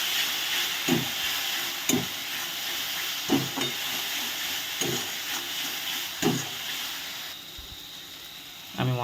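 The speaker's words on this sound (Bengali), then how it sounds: "এবারে আমি এই মশলাটাকেও ভালো করে কষিয়ে নেব।" Spice masala frying in a pan while being stirred for a Bengali ghugni, a constant close hiss and sizzle punctuated by periodic thuds and scrapes of the spoon, with no talking.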